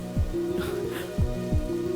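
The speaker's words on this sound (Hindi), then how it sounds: "तुम इस तरह बारिश में भीग रही हो।" Steady rain falls in a dramatic film scene, a constant soft patter with a few heavier thumps and a faint tonal hum underneath.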